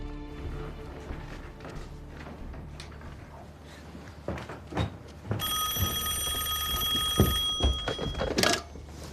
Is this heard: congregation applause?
no